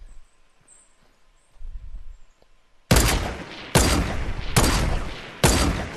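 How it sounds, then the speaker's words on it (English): Gunfire in the Fortnite video game starts after a quiet stretch with loud, near shots in four bursts of roughly a second each, following one another in quick succession. "How the heck is none of those shots hitting?"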